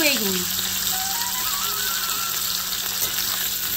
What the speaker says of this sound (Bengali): সব সবজিগুলো হালকা হালকা করে 2 মিনিটের জন্য একটু ভেজে নেবো তেলের উপরে